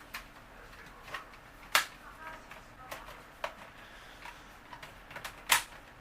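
Plastic trim ring snapped back onto a boom box: a few soft clicks, then two sharper snaps a few seconds apart, close by in a quiet room.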